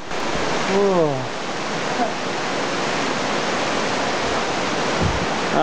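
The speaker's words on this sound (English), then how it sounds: "That water coming down." Continuous roaring rush of a waterfall close by on the Choro Trail in Bolivia, with a brief voice rising over it early on.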